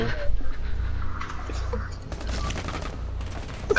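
Gunfire in the Rainbow Six Siege video game, dense rapid shots and clattering bursts over a constant low rumble, with voices talking over it.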